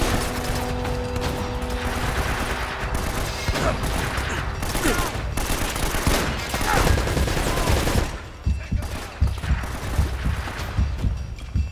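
Sustained bursts of automatic fire from a mounted gun in the video game Uncharted: Drake's Fortune, loud and continuous for about eight seconds, then thinning into scattered shots and impacts.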